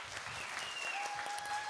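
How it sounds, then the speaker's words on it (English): Audience applause greets Rob Park, the new sales director, as he takes the stage at a corporate innovation showcase; dense, steady clapping from a crowd fills the short stretch without letup. "Round of applause for Rob Park."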